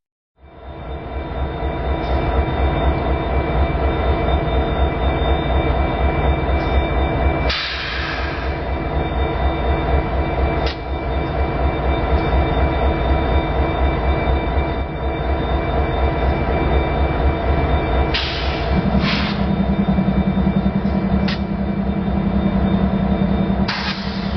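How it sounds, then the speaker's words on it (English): A heavy loaded coal train rumbles steadily past at close range along a river floodwall, with a constant low roar of wheels and cars and occasional sharp squeals and clanks. "A westbound loaded coal train rolls out of Williamson Yard and makes its way through the floodwall"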